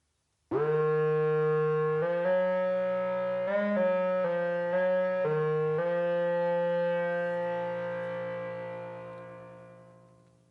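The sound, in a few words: modular synth oboe-like FM patch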